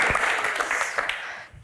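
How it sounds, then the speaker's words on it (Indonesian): An audience claps steadily at a political Q&A event in Indonesia, a dense burst of applause that slowly fades toward the end, with faint voices mixed in. "Tepuk tangan untuk Gus Imin"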